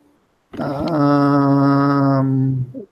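A dog gives one loud, close, drawn-out growling vocalization lasting about two seconds, with a steady tone, then trails off into a short whimper.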